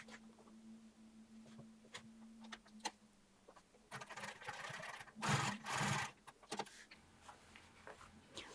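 A sewing machine stitching a jeans waistband with short back-and-forth stitches; faint at first, then several quick bursts of whirring stitching, the loudest near the middle, separated by brief pauses and clicks.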